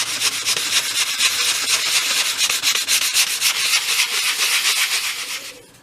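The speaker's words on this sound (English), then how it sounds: "And then sand the surface of that piece to remove the pencil marks." A small wooden piece for a 1/12 scale project is sanded by hand in quick, steady back-and-forth strokes, a close and loud scratchy rubbing that stops abruptly at the end.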